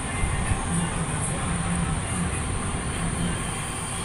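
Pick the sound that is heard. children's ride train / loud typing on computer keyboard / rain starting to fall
children's ride train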